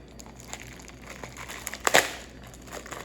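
Packing paper from the box of a DYMO LabelWriter 4XL label printer is crinkled and crushed close by, with soft rustling that swells into one loud crumple near the middle.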